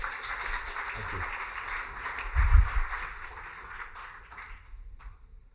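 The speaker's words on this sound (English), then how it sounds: "thank you all for applauding more for him." A conference audience at a medical ophthalmology panel applauds, a broad patter of clapping that swells in the middle and then fades toward the end, with some talk mixed in.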